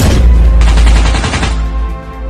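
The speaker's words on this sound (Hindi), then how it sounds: "और फिर बाबा रेड क्रिमिनल और बनी बंडल के ऊपर गोलियों की बरसात कर देते हैं।" Sustained burst of rapid gunfire from the Free Fire battle royale game, loud and dense for about a second and a half before trailing off into a low rumbling tail.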